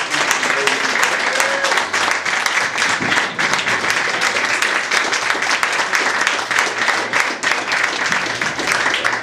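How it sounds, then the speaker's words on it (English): Sustained applause from an audience at a Libertarian party gathering, dense steady clapping filling the room for the full stretch, loud and continuous with a faint voice or two mixed in. "this guy deserves the biggest round of applause of anybody tonight"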